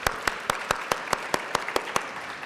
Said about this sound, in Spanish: Un aplauso para que Alberto nos platique